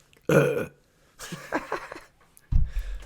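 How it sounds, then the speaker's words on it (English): Three loud, close burps in a podcast setting, the first short and deep, the second drawn out and wavering, the last low and rumbling, each separated by brief quiet. "We're the worst for burping during our podcast."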